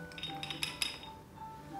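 Tap shoes fitted with loose jingling plates, shaken by hand, give a quick run of bright metallic clinks and chinks, several small taps and jangles close and fairly quiet, fading into a softer tail.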